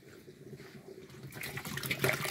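Water is poured into a durian fertilizer mix, a soft trickle that grows into a louder splashing pour over about two seconds, close by and quiet overall.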